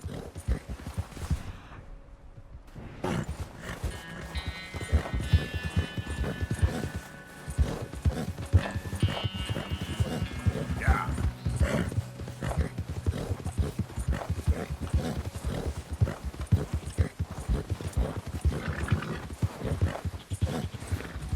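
Horse hooves clip-clop steadily on a trail in Red Dead Redemption 2, a continuous rhythmic gallop running nearly the whole time, mixed with game ambience and a few brief snorts.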